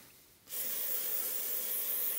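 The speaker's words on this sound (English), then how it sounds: "I used the contact cleaner stuff last because that evaporates pretty quickly" Contact cleaner sprays onto an Amiga 4000 circuit board during a battery leakage repair, starting with a sudden steady aerosol hiss after a short quiet moment and carrying on loud and close.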